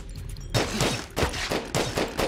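Rapid bursts of gunfire from a weapon shooting enemies in the game GRAV, with several close, loud clusters of shots separated by short pauses after a brief quiet start.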